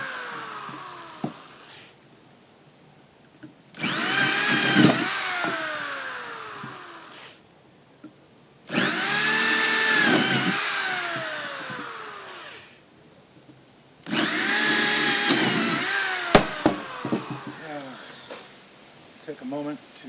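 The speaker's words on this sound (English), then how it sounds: "now drill all the way through." A power drill bores all the way through in three long bursts of whining, grinding sound separated by short pauses, with a voice talking at times.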